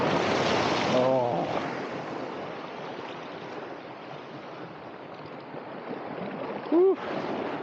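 Sea waves wash onto a beach at Georgioupoli, a broad surging rush that fades to a softer hiss, with a couple of brief vocal sounds from people nearby.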